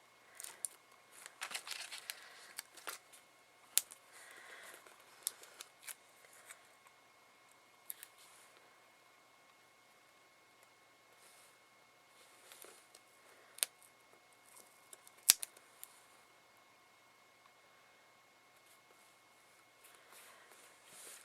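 Scissors snipping dimensional foam stickers in half during card making, a handful of quick faint crisp snips scattered over a quiet background with light paper rustling.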